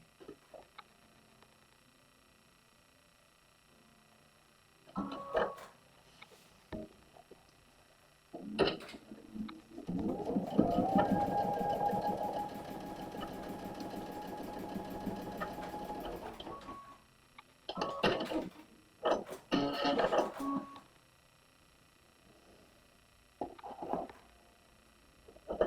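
A sewing machine stitches a star quilt block in one sustained whirring run of about seven seconds, close and fairly quiet, framed by scattered clicks, handling noises and brief pauses.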